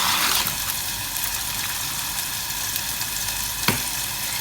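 Prawn risotto sizzling and frying in a hot pan while being stirred constantly, a steady dense crackle with a brief sharp clink of the spoon near the end.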